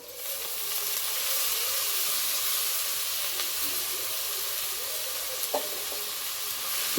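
Steady frying sizzle of drumstick leaves in a hot pan, continuous and close, with occasional stirring scrapes and a brief clink near the end.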